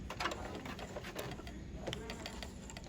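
A sewing machine zigzag-stitching over fabric, a fast rattling, ticking mechanical run heard close by, with a voice speaking faintly underneath.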